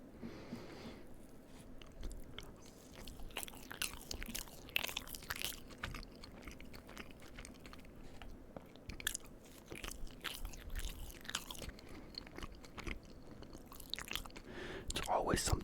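Soft, close-up chewing of chocolate cake, with moist bites and gentle mouth sounds repeating steadily throughout in a quiet ASMR setting.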